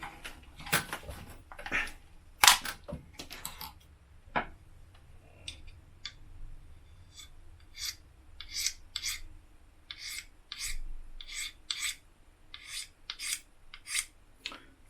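Gerber Strongarm knife spine scraping the coating off a magnesium rod indoors, a run of short, even rasping strokes in a steady rhythm after some earlier handling noises, close and fairly quiet.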